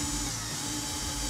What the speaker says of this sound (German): Du musst jetzt einmal bohren und ich muss ganz fest drücken.